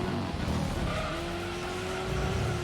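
Tires of an LMP race car in Gran Turismo 3 squeal in a sustained skid over a loud engine drone, the screech holding steady for a couple of seconds.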